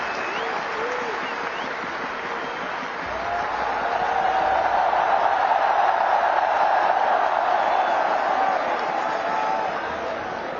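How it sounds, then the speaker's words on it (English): Sustained applause and cheering from a large crowd at a cricket team's victory celebration for BCCI office bearers, swelling midway and continuing steadily, with a voice briefly audible over it. "receive a big round of applause from everyone"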